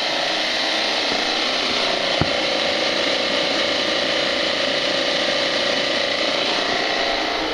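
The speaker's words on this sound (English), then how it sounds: "My recovery machine is running." A refrigerant recovery machine, used during a geothermal evaporator coil changeout, runs with a loud, steady mechanical whirring and rattling drone without a break, with one sharp click partway through.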